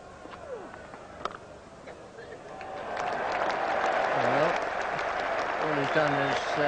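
An England cricket Test crowd against Australia claps and cheers as a team milestone comes up, applause swelling from moderate to a steady broad roar, with a commentator's voice talking over it.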